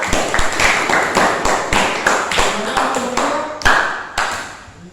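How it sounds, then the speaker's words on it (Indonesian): Students in a classroom clap for a group that has just presented, a loud burst of sharp, fairly sparse claps at an uneven rhythm, close by, with no talk over it. "Oke, kita beri aplaus dulu nih kelompok 2."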